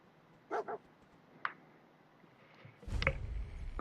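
A dog barks in the video game Fallout 4: two quick barks close together, then a single short yip, then a rougher, louder burst near the end over quiet background noise.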